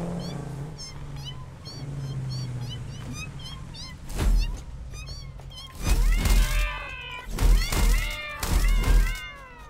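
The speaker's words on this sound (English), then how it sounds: "It's a weird cat sprite. It makes that cat noise instead of the horrible, awful sound that those things made." A cartoonish cat meow plays as a creature's sound in a factory-building video game, with layered meows over game music and repeated heavy thumps and whooshing effects in the second half.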